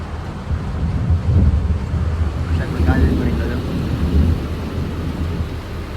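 Heavy rain falls with rolling thunder while a coal-carrying truck travels between Bhavnagar and Morbi, deep rumbles swelling in several waves over a constant wash of rain and wind.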